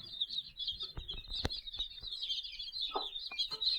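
Young chicks kept as parent stock on a village free-range poultry farm, peeping constantly in a high, dense chorus, with scattered clucks and soft knocks from a hen close by.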